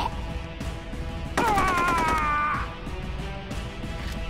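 A short rapid burst of automatic fire from a gun in Rogue Warrior lasts about a second as an evenly spaced rattle of shots, set against steady background game noise.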